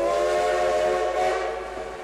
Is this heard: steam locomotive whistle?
yes